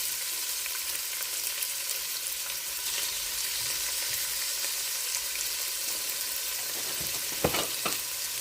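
Pork chops fry in a pan with a steady, close, bright sizzle that holds throughout. Faint scrapes of stirring come in now and then, and a few sharper pops and clatters arrive near the end, with no voices.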